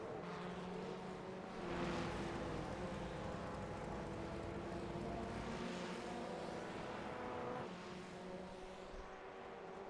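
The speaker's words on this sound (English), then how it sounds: "Cars is sitting idling in the pits." A Formula Ford race car idles in the pits in the iRacing sim at Rudskogen Motorsenter, its engine giving a steady, droning hum with slight swells, continuous and moderately loud, with no voices.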